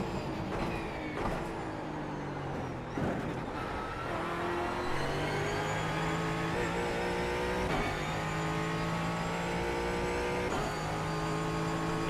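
A Mustang race car engine in an iRacing video game roars steadily and loudly, its pitch climbing and dropping through repeated gear shifts, with no voices.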